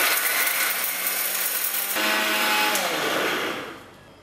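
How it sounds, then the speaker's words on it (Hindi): An electric mixer grinder finely grinding a masala spice blend for tandoori cauliflower, a loud dense whirring buzz that shifts pitch midway, then winds down and fades at the end. "चलिए इसको ग्राइंड कर लेते हैं।"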